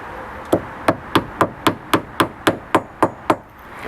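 A wooden bung is driven into a boat's stern toerail with about ten evenly spaced hammer blows. Each strike is sharp and close, in a steady rhythm, with no talking.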